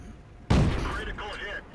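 A Covenanter tank's pom-pom gun fires in World of Tanks, a sudden loud, close blast followed by a rumbling, ringing tail with game effects layered on top.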